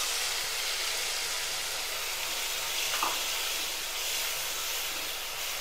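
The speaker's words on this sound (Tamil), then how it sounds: "நம்ம தக்காளி நல்லா வதங்குற வரைக்கும் வெயிட் பண்ணுவோம்" Chopped tomatoes with a little salt sizzle steadily in a pan of oil for a green gram dumpling curry, a close, even frying hiss with a brief stir near the middle and no talking.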